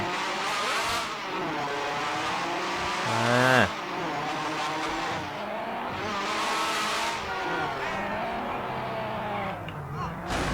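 Modded Honda Civic fifth-generation engine in GTA V, repeated rising and falling revs with tire squeal, loud and close, with a brief voice.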